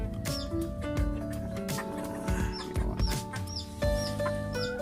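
Chickens in a steel-screened coop cluck steadily and close up, with several birds overlapping in a busy, continuous barnyard chatter and no talking.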